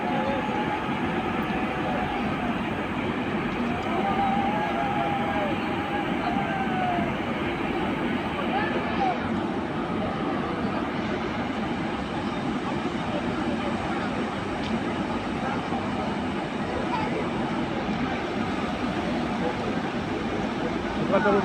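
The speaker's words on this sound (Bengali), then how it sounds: "এই তো ট্রেন এখন ছাড়ছে।" Balurghat–Bathinda Farakka Express pulling away from a station at its inaugural departure, a broad continuous rumble of rolling wagons and engine noise, steady and fairly loud with a busy crowd murmuring underneath.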